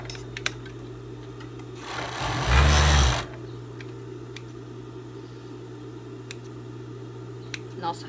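A sewing machine runs in a short burst of about a second and a half, stitching a teddy fleece zip jacket, amid quiet room tone with a few light clicks before and after.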